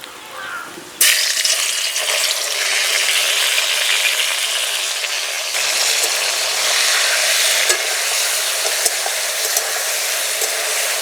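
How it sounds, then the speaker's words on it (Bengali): Chicken coated in salt and turmeric drops into hot mustard oil in a kadai, setting off a sudden loud sizzle that continues as a steady, close frying hiss with occasional faint clicks. "তেল গরম হয়ে গেছে, এবার নুন হলুদ মাখানো চিকেন দিয়ে দেব।"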